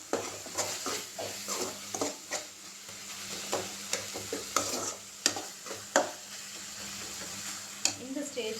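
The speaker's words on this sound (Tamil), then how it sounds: "கரண்டியில் இப்படி மசிச்சு விட்டிங்கன்னா தக்காளி எல்லாமே நல்லா மசிஞ்சிடும்" A ladle mashes and stirs tomatoes in a sizzling pan for a vegetable gravy: repeated close scraping knocks in an uneven rhythm over steady frying hiss.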